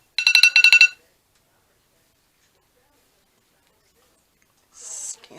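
A kitchen timer alarm goes off in a quick burst of rapid electronic beeps, loud and close, then silence before a brief shorter tone returns near the end.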